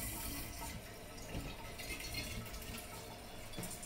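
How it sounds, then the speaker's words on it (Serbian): A plastic water bottle fills from a running tap, a steady quiet rush of water lasting the whole few seconds, fairly close but faint. "ovako napunim flašicu i ostavim je da stoji"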